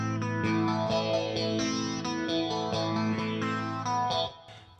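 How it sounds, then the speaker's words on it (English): Electric guitar chords run through a phaser combined with a chorus effect, a swirling, shimmering wash that rings for several seconds before dropping away, fairly quiet and alone. "if we use phaser with chorus,"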